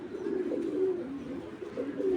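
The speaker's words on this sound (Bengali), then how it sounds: "মাদি কবুতর" A female Giribaz pigeon coos nearby in a few drawn-out throaty rolls, alone and clear against a quiet background.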